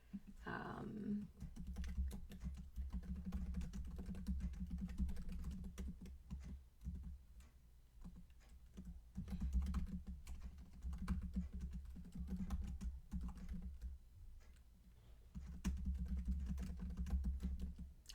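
Computer keyboard typing as notes are written during an online clay workshop meeting, a steady run of soft, close key clicks lasting throughout, with brief pauses and a low background hum.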